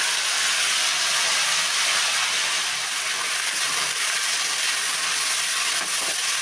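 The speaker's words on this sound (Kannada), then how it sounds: "ಈಗ ಪುದೀನ ಸೊಪ್ಪು ಹಾಕಿ 1-2 ಸೆಕೆಂಡ್ ಫ್ರೈ ಮಾಡ್ಕೋಬೇಕು." Mint leaves frying with green chilli and garlic in a pan, a loud steady sizzle and hiss running without a break, close up.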